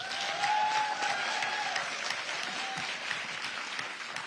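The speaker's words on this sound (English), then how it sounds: "Give him a hand clap, y'all." A crowd claps steadily and warmly, a dense patter of many hands that holds at an even level throughout with no voices over it.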